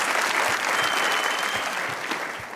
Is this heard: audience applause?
yes